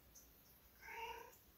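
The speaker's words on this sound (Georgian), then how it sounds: "კრუტუნ კნავილი" A cat gives a soft, brief meow, with faint purring around it, close by and quiet in a calm indoor room.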